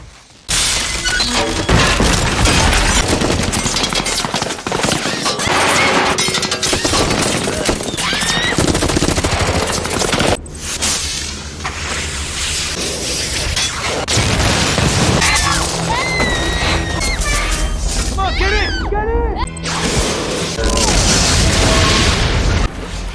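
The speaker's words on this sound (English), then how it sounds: "Suddenly, a missile strikes the house." A missile strike on a house in an action film, heard as a loud, sustained barrage of explosions, booms, gunfire-like bursts and shattering debris, with brief drops before the chaos resumes, all at full intensity.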